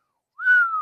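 A person whistles one sustained, slightly falling note, imitating a plumber, loud and close with no other sound around it.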